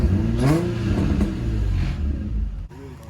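A G car's engine fitted with test pipes revs up and settles back through the exhaust, a close throaty rumble rising and falling in quick bursts over about three seconds.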